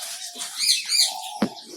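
Bright, high chirps from lovebirds in a colony come in short bursts nearby, with a sharp tap or knock near the end.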